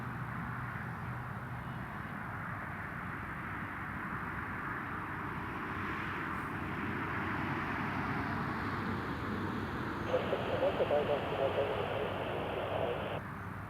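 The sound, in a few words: Air France airliner approaching the end of the runway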